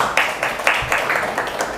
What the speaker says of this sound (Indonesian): Tepuk tangan dong untuk kita semua pada hari ini